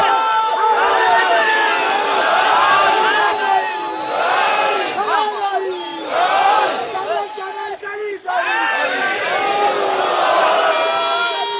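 A large crowd at a religious gathering addressed by Allama Talib Johri chants the Haidari slogan at full voice, waves of massed shouting surging and breaking in repeated bursts, with a brief dip before the roar resumes.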